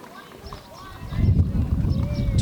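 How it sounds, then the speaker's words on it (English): Hooves of a horse pulling a carriage in a parade clop along the pavement, growing louder and closer midway as the rig passes, with people talking nearby. "Here's a pretty horse and carriage."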